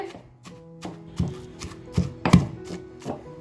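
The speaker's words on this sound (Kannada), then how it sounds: "ಇಷ್ಟನ್ನು ಸೇರಿಸ್ಕೊಂಡು ಚೆನ್ನಾಗಿ ಜಚ್ಕೊಂಬರೋಣ" Cauliflower chutney ingredients are pounded by hand in a kitchen, giving a steady series of close, heavy thuds roughly every half second, each with a short crunchy impact.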